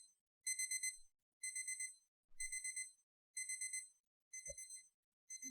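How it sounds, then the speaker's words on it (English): A DreamSky alarm clock radio's buzzer at its maximum volume sounds in five evenly spaced bursts of rapid high-pitched beeping, each about half a second long with short silences between, followed by a faint click. "Now that's the maximum buzzer noise that you can get on this clock."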